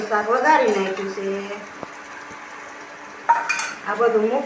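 Chora bean (choli) curry is tempered with turmeric and salt and stirred in a pot, giving a faint sizzle and a couple of metal clinks. A voice speaks over it at the start and end.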